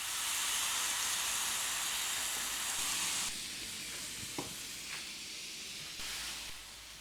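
Seasoned carne asada beef sears in hot beef tallow with a loud, hissing sizzle that drops sharply partway through and carries on more quietly, with small pops and no voices.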